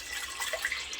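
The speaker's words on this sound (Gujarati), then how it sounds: "દાળને બાફવા માટે પાણી ઉમેરવાનું છે." Water poured onto masoor lentils in a pressure cooker for boiling, a brief steady splashing stream, close and fairly quiet.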